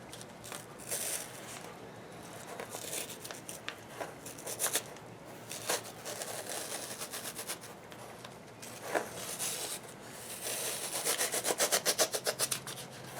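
Stencil being peeled off a freshly spray-painted surface for a street-art piece, giving soft dry rubbing and tearing rasps in uneven bursts, close and quiet, with a denser run of crackly peeling toward the end.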